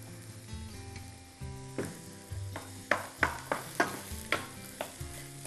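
Onions sautéing in a frying pan with vegetables, a faint sizzle beneath a series of sharp clinks and scrapes as the pan is stirred repeatedly.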